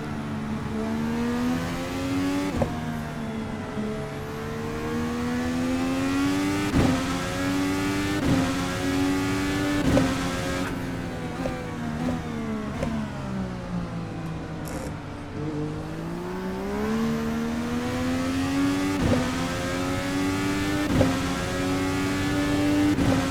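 A race car engine in the Assetto Corsa sim on a Toronto street circuit revs up and down through repeated gear changes, a steady loud drone with sharp shift breaks and rising, falling pitch throughout, with no voices.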